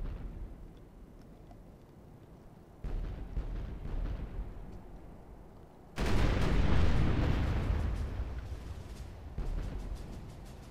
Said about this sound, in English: Let's exchange some artillery shots.